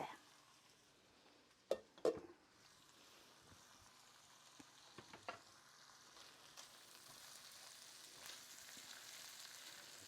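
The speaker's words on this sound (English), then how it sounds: "You see, the onions have browned nicely, and so has the pork" Onions and pork frying in a pan, a soft continuous sizzle with a couple of sharp clinks or pops early on, fairly quiet and without talk.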